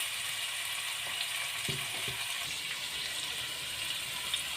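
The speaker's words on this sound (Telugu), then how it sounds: "ఉప్పు, కారము అవన్నీ వేసేసుకొని సిమ్లో పెట్టి మంచిగా ఉడికించుకుందాం" Egg biryani gravy seasoned with salt and chili powder simmers on a low flame, giving a faint, steady sizzle and bubbling hiss with a few soft clicks throughout.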